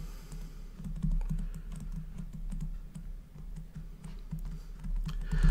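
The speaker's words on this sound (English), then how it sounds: "A straightforward calculator, your button presses are going to be something like this." Button presses on a basic calculator, a steady run of quick, close clicks tapped one after another with no talking.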